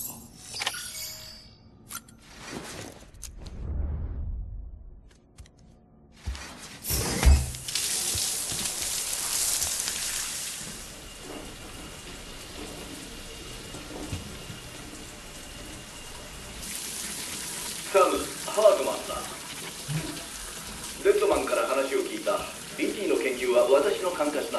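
Running shower water hisses steadily in Death Stranding, a soft broadband spray that swells louder later on, with speech in Japanese talking over it.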